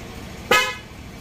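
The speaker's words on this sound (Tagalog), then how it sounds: "Sige, busina mo." A single short car horn blast, loud and close, sounding briefly against a quiet background during a check of a Nissan Night Ranger's lights and horn.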